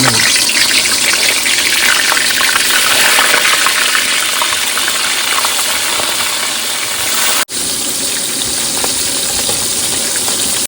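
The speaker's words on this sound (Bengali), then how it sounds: "প্রথমে তেল গরম হয়েছে বাগদা চিংড়িগুলো ভেজে" Loud, steady frying hiss and crackle of tiger prawns in hot oil in a wok fills the whole stretch, with a brief dropout near the end before the sizzling resumes.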